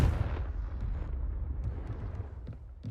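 A Confringo spell blast in Hogwarts Legacy erupts as a loud boom at the start, then rumbles and crackles away into a low, dense roar, with small pops scattered through the rest.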